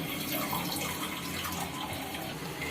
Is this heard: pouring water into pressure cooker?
yes